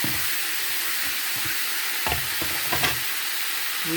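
Onions and spices are stirred in a hot pan, giving a steady broadband sizzle with a few scraping clatters as the utensil moves through, close and without talk.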